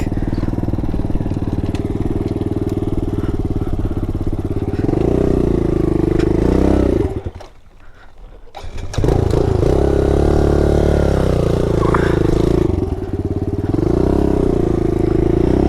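Pit bike engine, a 2021 Kawasaki KLX110L or Yamaha TTR50, droning steadily up close as the rider goes along, briefly cutting out for about a second before revving back up and carrying on loud.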